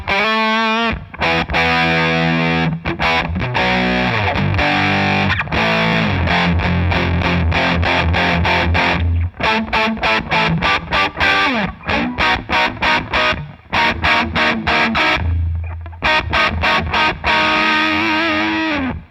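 An electric guitar plays through a Beetronics Royal Jelly fuzz and overdrive pedal with its buzz circuit switched on, loud and heavily distorted, with strummed chords ringing out and then chopped into rhythmic stabs.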